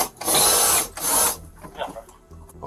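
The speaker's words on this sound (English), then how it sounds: "The officer granted permission to his colleague to drill the door" A power drill bores into a door in two loud, sustained bursts of about half a second each, separated by a short pause, then gives way to quieter shuffling and handling noises.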